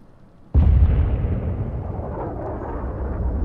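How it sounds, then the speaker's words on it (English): A big missile explodes in Dying Light 2, one sudden loud boom that rolls on into a long, dense rumbling tail, close and alone. "That's a big-ass missile"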